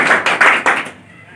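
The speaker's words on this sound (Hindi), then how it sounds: "एक बार जोरदार ताली।" Loud, close clapping from an audience at a Maharishi Kashyap Jayanti celebration in a party office, a short burst of rhythmic hand claps that stops abruptly after about a second.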